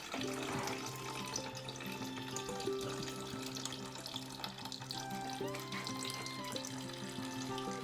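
Freshly pressed apple juice for cider gushes out of a press in a steady, continuous watery rush with a fizzy, sizzling texture, heard up close and alone without talk.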